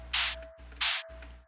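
FM-synthesized hi-hat sample pitched up with a textured layer, dry without snap processing: three short bright noisy hits in a loose pattern, over a steady faint tone, with no voices.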